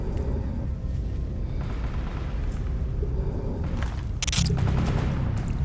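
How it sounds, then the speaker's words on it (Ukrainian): Distant bursts of gunfire in the game S.T.A.L.K.E.R. Anomaly rumble beneath a steady low ambient drone, growing heavier and closer toward the end. "Це вже ближче стрілянина."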